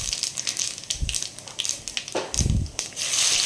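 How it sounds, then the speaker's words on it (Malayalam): Fennel seeds dropped into hot coconut oil with mustard seeds, with a close, bright crackle and a couple of heavier sputtering bursts partway through a short stretch. "ഇനി അതിലേക്ക് വലിയ ജീരകം ഒരു 1/2 ടീസ്പൂൺ കൂടി ഇട്ട് കൊടുക്കുകയാണ്"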